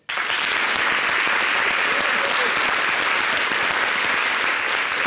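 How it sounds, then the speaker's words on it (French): A studio audience on the Yves Hidero Show, a TV programme on NCI, breaks into sudden, loud, sustained applause, a thick even roar of clapping that holds steady from start to finish. "ça s'applaudit."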